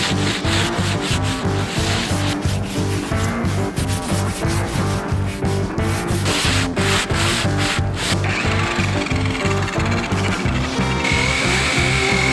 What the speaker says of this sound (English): We're going to start with using 80 grit by hand and get kind of the crevices.